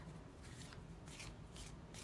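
Tarot cards being shuffled by hand in close, soft bursts of riffling and sliding, several rounds separated by brief pauses, quiet and alone without talking.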